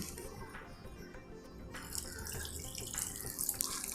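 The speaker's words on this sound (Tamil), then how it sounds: "2 கப் கிட்ட தண்ணி விட்டுருக்கேன்." Tap water running and splashing into a bowl of paratha flour in a home kitchen, a steady close pour with no talking.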